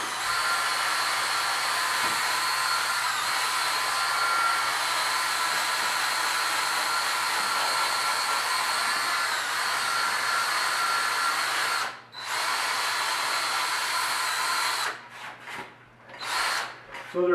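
Rotary buffing tool blending Vettec Adhere on a horse's EasyShoe, a steady high-pitched whirring drone held for several seconds, then cut by brief pauses and restarts near the end, with no speech.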